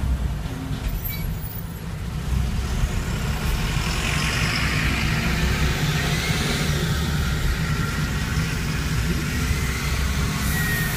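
A bus drives right alongside a car on a city road, its heavy engine a loud, steady, close rumble with road noise that holds for several seconds, and no one talks.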